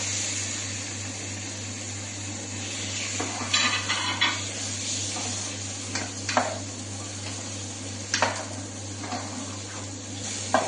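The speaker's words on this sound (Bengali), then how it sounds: "এখন মাংসটা ঢেলে দিলাম" Meat for dum biryani tipped into a pot with browned onions and stirred, soft sizzling under a low steady hum, with intermittent scraping and clinks of a utensil against the pot.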